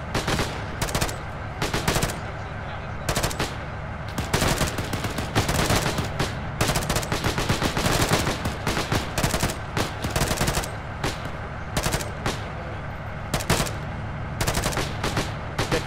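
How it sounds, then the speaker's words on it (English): Tank main gun and machine gun fire in the Arma 3 game, sustained rapid bursts of loud automatic gunfire with short pauses and heavier booming shots mixed in, close and continuous. "Fire on the main gun and machine gun for now. Short burst, suppressive fire on two-story building,"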